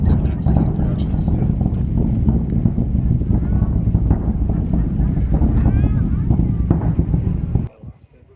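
Falcon 9 rocket launch heard from the ground near Kennedy Space Center, a loud, continuous low rumble mixed with wind buffeting and faint voices, which drops away abruptly near the end.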